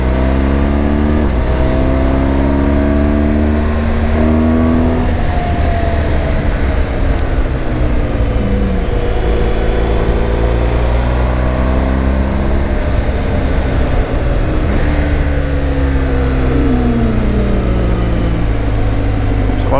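A car engine hums steadily while driving along a scenic winding road, its pitch rising and falling as it accelerates and shifts gears, with clear gear changes around a bend; close, continuous and loud with no talk.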